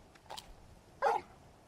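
The dog Torgal in Final Fantasy XVI gives a few short barks: two quick yips early, then a single louder, clearer bark a moment later, against a quiet background.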